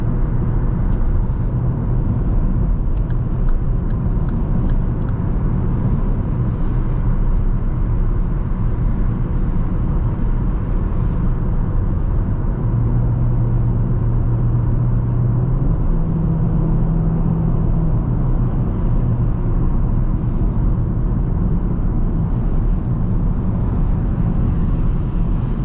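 Car accelerating on a test drive, heard from inside the cabin as a steady low engine and road rumble that swells slightly in the middle, continuous throughout with no talking.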